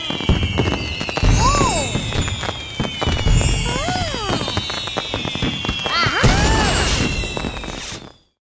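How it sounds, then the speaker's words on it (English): Fireworks burst in a sky display: rising and falling whistles over dense crackling pops and bangs, loud and continuous for about eight seconds before cutting off. "The fireworks in the sky were bright and colorful."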